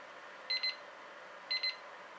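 A timer alarm sounds in two short bursts about a second apart, each a quick double beep, clear but modest in level over a quiet room.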